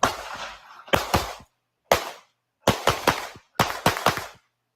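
Gunshots are fired at a target during a practical shooting drill, heard as loud, sharp reports in quick bursts of two to four, separated by short silences.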